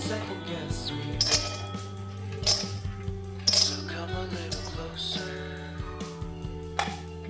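Ghee-fried almonds are scooped from a metal pan with a spoon, giving several sharp clinks and scrapes at an irregular pace close by, over a low steady hum.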